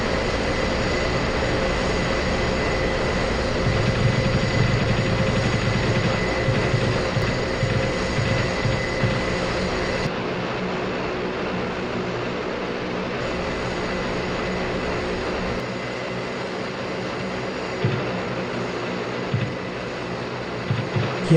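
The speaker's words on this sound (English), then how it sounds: "did you notice how smooth these engines spooled up today?" Airliner jet engines running steadily while the plane taxis, a loud continuous roar with a constant whine that shifts slightly in tone partway through, with no voices.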